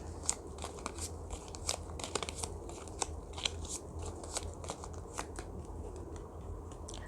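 Tarot cards are shuffled and drawn in quick, soft riffling bursts and flicks, faint and close, repeating irregularly over several seconds.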